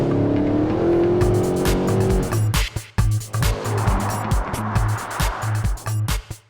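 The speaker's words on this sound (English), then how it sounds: "the SLS AMG's exhaust engine note has been engineered scientifically to sound as if the very earth is tearing itself apart" A Mercedes SLS AMG engine revs hard, its exhaust note rising and then breaking into sharp repeated bursts and pops, loud and close, with no talk.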